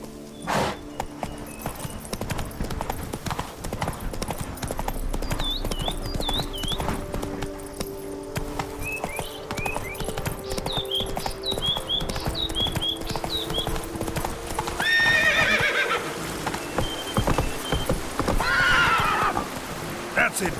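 Roach, Geralt's horse in The Witcher 3, clops along with steady hoofbeats and lets out several whinnying neighs, louder near the end, over a game soundscape with light rain-like texture and some background voice.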